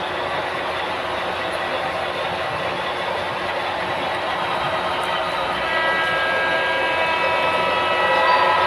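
Model railroad train on the Granite Gorge and Northern layout rolling past trackside signals, a continuous close rumbling clatter of wheels and motor that grows a little louder near the end, with no talking.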